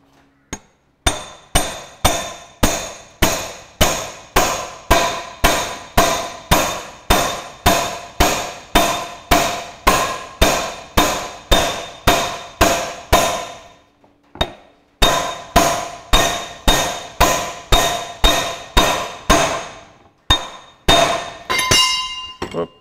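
Steering box part for a Ferguson TE20 tractor being hammered through aluminium soft jaws in a workshop: a long, steady run of loud, sharp metallic blows, one or two per second, with a brief pause midway before the hammering resumes.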